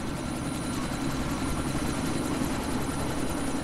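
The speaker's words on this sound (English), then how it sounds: "Here's the chopper." A helicopter in the video game Deus Ex: Mankind Divided gives a steady, loud rotor-and-engine rumble that holds at an even level throughout, with no talking.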